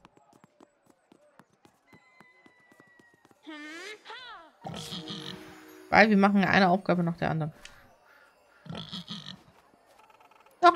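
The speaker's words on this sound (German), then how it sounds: "Hier ist noch ein Schweinchen." Cartoonish pig grunts and oinks from a children's adventure video game set in the town of Artia, short snorts scattered among German speech, with soft clip-clop and game sounds in the background.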